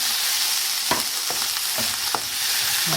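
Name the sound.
bread masala being sautéed and stirred in a pan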